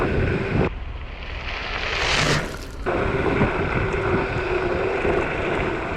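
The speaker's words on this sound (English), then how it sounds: "A little bit of headwind." Loud headwind buffets the microphone in a continuous roar while a rider travels at 30 miles an hour on full power along a path aboard a Varla Eagle One off-road electric scooter, with one brief stronger gust.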